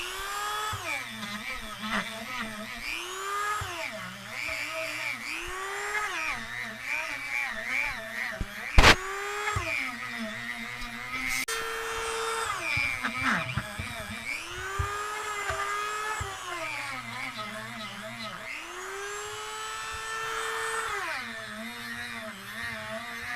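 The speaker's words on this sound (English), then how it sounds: "you saw me using the Dremel tool" A Dremel rotary tool cleans a dirt bike wheel during spoke replacement, its high whine rising and falling in pitch as the load changes, with a sharp crack near the middle. It runs close and fairly loud.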